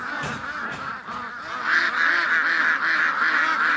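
Several frightened ducks call in a rapid, overlapping run of harsh, nasal honk-like quacks. The flock sounds fairly near, the calls grow louder and denser partway through, and they continue steadily to the end.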